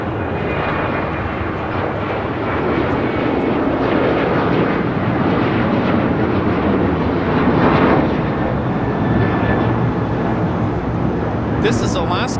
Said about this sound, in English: This is Alaska Airlines 1406 taking off to Manzanillo on a 737-900ER.